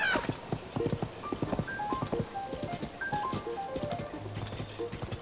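Footfalls of a giant horse galloping along a beach in Zelda: Tears of the Kingdom, a steady clip-clop of hooves with a brief whinny, set against game music and a continuous wash of ambient sound.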